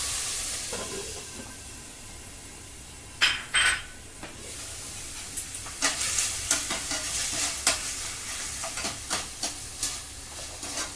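Tomatoes being stirred in a hot frying pan for a home-made veg biryani, steady sizzling hiss with intermittent scraping and clinking of the spoon against the pan, close up and without talk.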